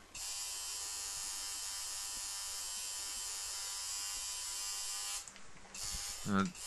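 A tattoo machine buzzes steadily and close for about five seconds while tattooing skin, then cuts out, leaving faint handling noises and a brief squeak.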